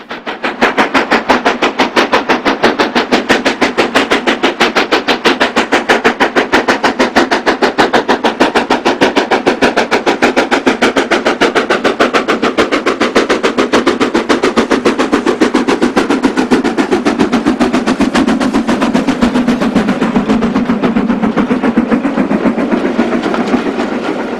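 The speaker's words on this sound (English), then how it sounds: "Ian Riley's 45407 has been a busy loco in the new century" Stanier steam locomotive 45407 working hard near Glenfinnan, its rapid, steady exhaust beats pounding continuously at close range, loud and unbroken throughout with no voices.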